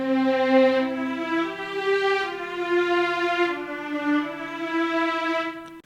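A long sustained orchestral string articulation from the BBC Symphony Orchestra library by Spitfire Audio, with smooth held notes that shift pitch slowly, steady and full, heard alone.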